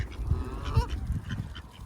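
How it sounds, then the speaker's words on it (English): Swans give a few brief honking calls as they approach across water, moderately close, mixed with low rumbling background noise. "Swans incoming."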